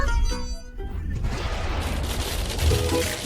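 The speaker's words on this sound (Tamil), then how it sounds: "என் பாப்கார்ன் வெடிக்க போறது." Popcorn bursts open in a rapid, crackling volley of sharp pops that build into a dense, loud barrage, with a voice heard briefly near the start.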